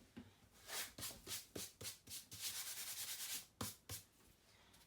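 Dried salt being rubbed off a painting's surface, a run of dry, scratchy strokes in quick bursts with a longer sustained rub partway through, close and fairly quiet with no talking.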